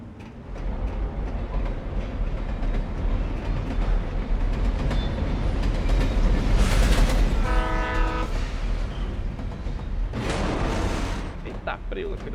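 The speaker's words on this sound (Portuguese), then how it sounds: "Agora a gente vai ter que desviar de trem, já tô até vendo." A train rumbles past in the video game Alan Wake Remastered, a loud steady roar with clattering wheels and a brief horn-like tone midway, building and fading over several seconds under continuous game ambience.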